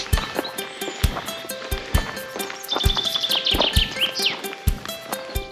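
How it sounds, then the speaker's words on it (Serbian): Songbirds chirp and trill repeatedly along a mountain trail, fairly close and clear, with regular hoof-like clip-clop thuds or footsteps knocking beneath the birdsong. "Ptice pjevice."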